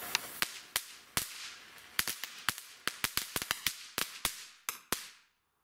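A Weco Crackling Bit firework gives off a steady series of sharp, dry cracks and pops at irregular intervals, close and fairly quiet, stopping suddenly at the end.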